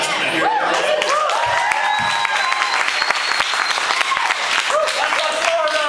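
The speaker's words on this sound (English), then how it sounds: "Applause. Can I hear it?" Audience at a youth poetry reading bursts into sustained applause, dense steady clapping close by with whoops and cheers mixed in throughout.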